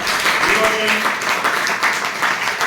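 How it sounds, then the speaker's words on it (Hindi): A seminar crowd at a business event gives a burst of applause for two leaders, loud and dense, with a brief voice or tonal sound near the start blending into the clapping. "तो मैं इन दोनों लीडर्स के लिए एक बार बहुत जोरदार तालियां चाहूंगा"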